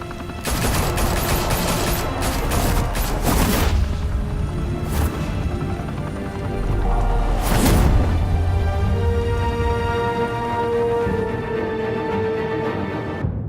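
Gunfire in the video game Batman: The Telltale Series, with loud bursts of shots and booming impacts clustered early on, another heavy burst in the middle, then ringing tones trailing off toward quiet.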